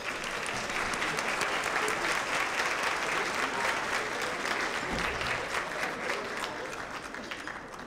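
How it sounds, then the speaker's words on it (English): Sustained audience applause at a school retirement banquet for a high school chamber orchestra, a broad, even wash of many hands clapping that holds steady throughout, filling the room without any speech on top. "I'd like to give a round of applause to the Minchville High Chamber Orchestra"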